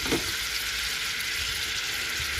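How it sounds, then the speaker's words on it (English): Seven finely chopped onions frying in a pot, a continuous bright sizzle with a brief clatter at the start, steady and close. "we are going to add in our chopped onions"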